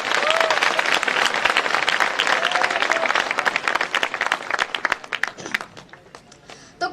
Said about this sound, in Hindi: एक बार तालियां बजाकर